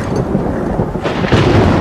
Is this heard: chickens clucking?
no